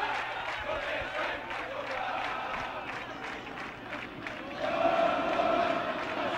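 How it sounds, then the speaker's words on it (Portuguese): Vasco fans chanting in a football stadium at a Copa Sul-Americana 2008 match against Palmeiras, a distant massed chant rising and swelling, with the crowd noise growing louder toward the end. "E agora a torcida do Vasco canta."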